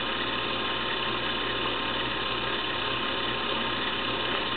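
A Stormer viscometer motor runs steadily, a loud continuous mechanical whir with a rhythmic ratcheting gear clatter and no talk.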